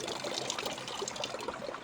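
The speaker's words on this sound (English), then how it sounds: "The water is flowing very slowly," Slowly flowing water trickles and gurgles softly, a faint, steady liquid sound heard alone for a brief moment.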